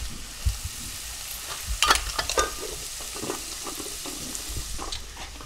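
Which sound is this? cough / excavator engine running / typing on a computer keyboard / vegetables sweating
vegetables sweating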